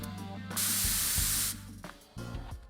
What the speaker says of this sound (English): that sounded like pepper spray.